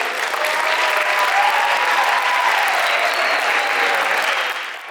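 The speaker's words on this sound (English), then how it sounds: "let's give them a round of applause, please" Youth conference audience gives a round of applause, a continuous, full-room clapping that holds steady and loud before tapering off at the very end.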